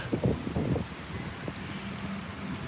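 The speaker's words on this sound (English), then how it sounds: "It's pretty windy out here today" Outdoor wind gusts in a steady, rushing roar and buffet the microphone, loudest in the first second and then settling into a constant breathy hiss.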